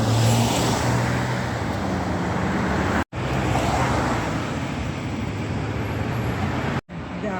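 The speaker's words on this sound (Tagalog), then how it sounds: "Kasi dito ako sa highway." Highway traffic heard from the roadside, a loud continuous roar of passing vehicles with engine rumble, broken by two brief dropouts.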